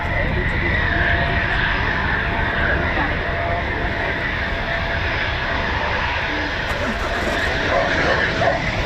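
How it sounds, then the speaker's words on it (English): Eurofighter Typhoon FGR4 fighter jet on a slow approach at RAF Coningsby, a steady broadband engine roar holding loud throughout with wind noise and a faint voice beneath. "Oh, here comes the Typhoon behind me now as well."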